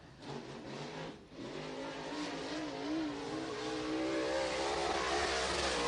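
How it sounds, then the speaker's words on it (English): A pro stock race car, the number 197 machine, roars with a loud, continuous engine note that swells and climbs as it is revved near the start line, with no talking. "Gary Dutton, you can hear the ponies thumping underneath the hood of the 197 machine."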